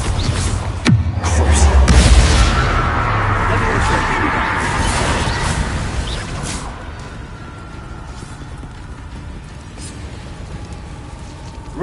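The Expelliarmus spell is cast in the Hogwarts Legacy video game: a sharp burst and booming impact, then a dense rumbling wash that slowly thins and fades.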